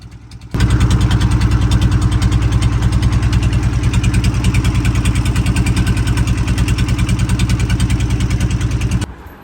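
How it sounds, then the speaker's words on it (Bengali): A boat engine on the Karnafuli river at night chugs in a loud, steady, rapid putt-putt rhythm, kicking in abruptly after a brief quieter start and running continuously until it cuts back near the end. "যে ভটভট আওয়াজটা থাকে ইঞ্জিনের, সেটা খুবই বিরক্তকর হয়"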